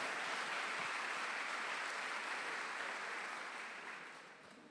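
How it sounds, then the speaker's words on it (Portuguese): A church congregation at an evening service applauds the pastor with a steady wash of clapping, heard from a distance and fading near the end. "Vamos receber o pastor Ronald Gustavo com forte aplauso ao Senhor pela sua vida"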